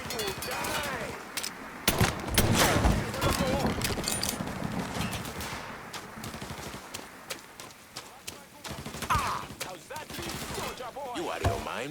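Repeated bursts of gunfire from the Mafia III Definitive Edition video game, dense and sustained across the clip with overlapping shots and combat noise, loud and close, with voices shouting in between.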